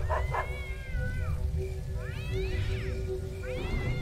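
Several meows from a cat in the Neverwinter Nights Enhanced Edition game, rising and falling cries that come close, loud and clear over a steady low hum and background game music, with no talking.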